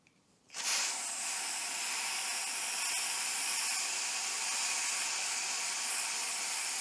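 Aerosol throttle valve cleaner sprays steadily onto a car's throttle body, a loud continuous hiss starting abruptly after a brief quiet moment and holding without a break to the end.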